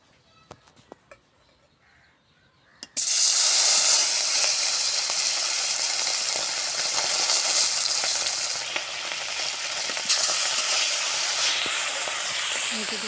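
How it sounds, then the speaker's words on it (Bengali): Tilapia fish drop into hot oil in a wok and set off a sudden loud, continuous sizzle and crackle that holds steady, following a few quiet clicks beforehand. "তেলটা গরম হলে মাছগুলো আমরা দিয়ে দিব।"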